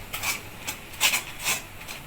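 Palm fruit pulp stirred continuously in a pan, a series of rough scraping, rubbing strokes of a spoon against the pan bottom, repeating every half second or so, close and moderately loud with no talking.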